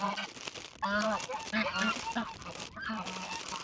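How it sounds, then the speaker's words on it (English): Several farm geese honk loudly in short bursts, close by, with a person talking over and between the calls. "Those loud geese."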